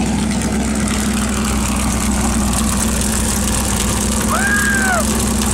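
Big-block V8 in a 1973 Corvette Baldwin Motion replica with a big cam and open exhaust, a loud, steady, lumpy idle close by, with voices talking over it.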